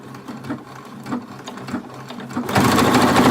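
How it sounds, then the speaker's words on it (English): Sewing machine backstitching the seam of a cloth face mask, a close mechanical whirr that speeds up into a loud steady run near the end. "you're going to back stitch at the beginning and end on this one"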